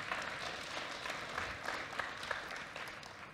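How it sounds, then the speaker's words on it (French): Steady applause from an audience at a Web3 incubator closing evening, a dense even patter of many hands clapping for the whole stretch at moderate level, with no talking over it. "Je vous demande d'applaudir Alex qui est le cofondateur et le CTO de Wearspaces."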